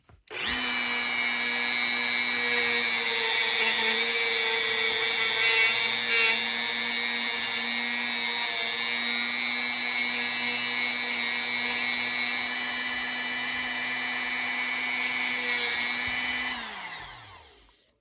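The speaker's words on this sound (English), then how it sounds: "I'll go through an example of what that will look like right now using a Dremel" A Dremel rotary tool whines at high speed as it cuts through a 3D printed plastic part, a loud, sustained close-up buzz that holds steady for about seventeen seconds before winding down.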